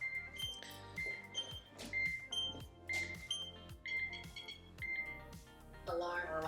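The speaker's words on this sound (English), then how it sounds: "I set the alarm, and the alarm is beeping down." A house security alarm system beeps after being armed in a vacant property, its repeated short electronic tones pulsing steadily and clearly in a regular rhythm for several seconds, with a brief burst of denser tones at the end.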